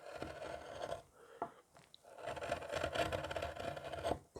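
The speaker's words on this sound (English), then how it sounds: "I'm just going to carve some of that out with a chisel" A chisel carving a hump out of wood, heard as close, uneven scraping and shaving strokes with short pauses and a couple of sharp catches, moderately quiet.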